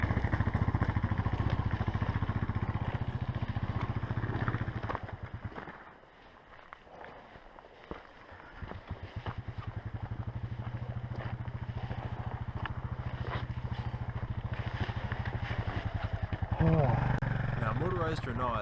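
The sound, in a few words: adventure motorcycle engine revving while climbing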